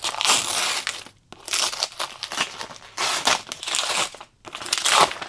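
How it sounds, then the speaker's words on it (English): Paper wrapping torn and crumpled off a book, close and loud crinkling in three bursts separated by brief quiet pauses. "Let's unwrap it."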